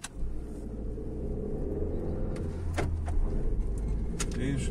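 A Renault Megane 4 engine turns over and starts, settling into a steady low rumble close by, with a few sharp clicks and knocks and quiet talk around it.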